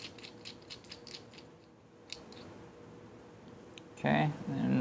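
Iridium spark plug being threaded back into its hole and tightened, a run of faint, quick metallic clicks like a ratchet early on, then a louder burst of talk near the end.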